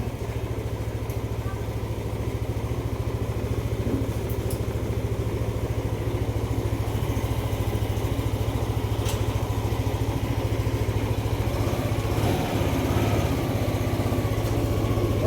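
Yamaha Aerox 155 scooter engine idling roughly while being diagnosed for stalling: a steady, close low-pitched putter with a constant hum, running alone for about fifteen seconds.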